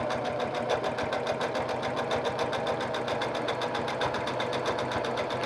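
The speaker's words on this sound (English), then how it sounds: "Anytime you rethread your machine, you probably ought to, you know, run a test strip through and see what it's doing." A sewing machine stitches a test strip of fabric after being rethreaded, running steadily and continuously with a fast, even mechanical rattle, close and alone without any voices.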